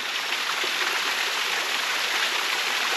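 Water dripping and trickling from tree roots by a cool swimming spot, a steady hissing wash of running water with no breaks or voices.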